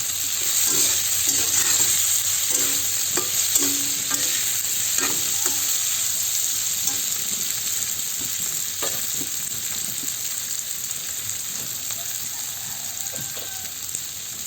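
Kangkong sautéed with tofu and pork sizzles loudly and steadily in a salted pan, with scattered scraping stir strokes close by, mostly early on, and no talk.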